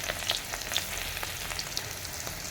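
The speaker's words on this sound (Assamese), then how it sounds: "এইখিনি তেলতে মই কচু শাকখিনি ভাজি লওঁ।" Taro leaves fry in oil left over from frying fish, giving a steady, dense sizzle and crackle throughout with no talking.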